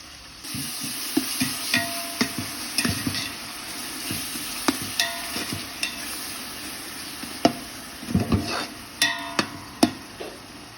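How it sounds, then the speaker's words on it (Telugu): Onions fry in oil in a pan for a green chicken pulao, giving a steady close sizzle broken by repeated clinks and scrapes of a spoon as they are stirred, with a busy cluster of strokes near the end. "కావాల్సినంత ఆయిల్ వేస్తున్నాను ఆనియన్ వేస్తున్నాను"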